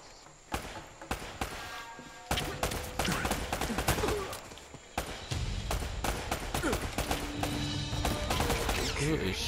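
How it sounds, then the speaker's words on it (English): Gunfire in Uncharted: Drake's Fortune, with sharp shots cracking out in irregular bursts and scattered single reports against a busy game soundscape of footsteps and action. "Who is shooting at me?"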